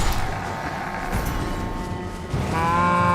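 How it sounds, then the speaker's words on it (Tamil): A low, cow-like mooing call from the Elden Ring video game, drawn out and fairly loud over continuous mechanical game noise, ending in steadier tonal sounds. "மாடு கத்துற மாதிரி இருக்கு."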